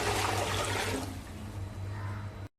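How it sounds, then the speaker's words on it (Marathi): A vessel of water poured into a cooking pot for sabudana and potato papad batter, a loud rushing gush for about two seconds that stops abruptly. "पाणी घालूया टोपामध्ये."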